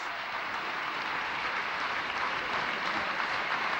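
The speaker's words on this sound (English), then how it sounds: "And the applause is for Lambert's 50" Steady, dense cricket crowd applause for a batsman's fifty, filling the whole stretch, a broad wash of clapping at an even, sustained level with no voices standing out.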